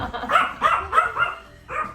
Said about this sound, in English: He's getting happy. He's barking away.